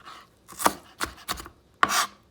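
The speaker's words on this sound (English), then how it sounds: "I'm going to keep chopping these up." A knife chops purple and white onions on a board in four separate bursts of crisp, near cuts with short pauses between them, and no voices.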